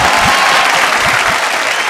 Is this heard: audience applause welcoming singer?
yes